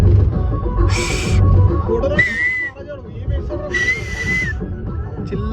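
A person on a road trip to Siddipet tries to whistle, producing two short, rising whistle notes separated by breathy hissing bursts, close and fairly loud over background noise.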